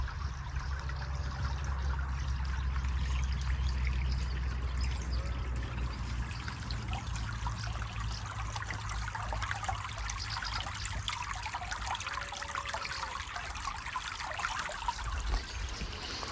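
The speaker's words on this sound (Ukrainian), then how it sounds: "Подивіться, як водичка красиво біжить." Mountain stream water runs over stones in the Austrian mountains, a steady close trickling and splashing rush that continues unbroken, with low rumble beneath and no talk.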